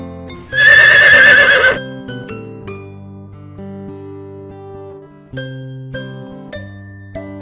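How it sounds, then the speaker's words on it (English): A horse gives a single loud whinny of just over a second, followed by gentle chiming background music and no speech. "Horse."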